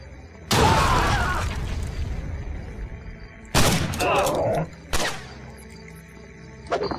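Gunfire in the video game Blade of Agony: three separate loud blasts, the first a long booming burst, then two shorter sharp shots, with quiet ambience between.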